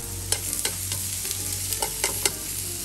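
Carrots and onion stir-fry in a hot oiled frying pan, giving a steady soft sizzle broken by the sharp scrape and clack of a utensil moving the vegetables around several times, close up with no talking.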